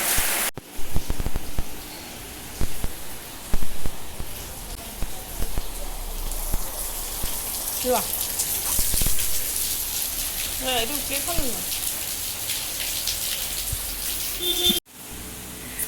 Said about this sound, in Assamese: আজি বহুত বেছি বৰষুণ দি আছে